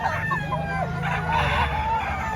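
Gamecocks and chickens at a poultry expo, roosters crowing over a constant crowded background of clucking birds, loud and close, with faint talk in the mix.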